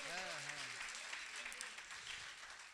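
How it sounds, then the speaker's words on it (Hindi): Applause from the audience at a kavi sammelan poetry gathering, a steady, broad wash of clapping throughout, with a brief voice sounding over it at the very start. "तालियां एक बार यहां से वहां तक हो जाए।"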